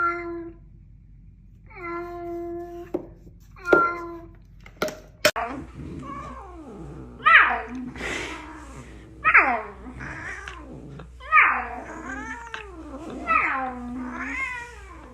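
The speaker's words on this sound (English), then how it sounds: "This is a cat." A cat meowing and yowling several times in drawn-out, wavering cries, close and clear, after a few short electronic tones, with a voice speaking briefly.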